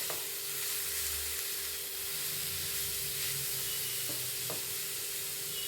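Grated carrot stirred continuously in oil in a hot frying pan over medium flame, soft steady sizzle and hiss with a low stove hum and a couple of brief utensil taps, no speech.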